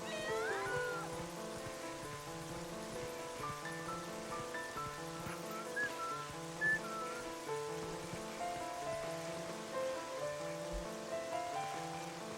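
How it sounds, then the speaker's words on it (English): Several cats meow in a house in the video game Twilight Princess, with the meows rising over steady, looping game music and faint rain-like patter throughout. "A house with many cats."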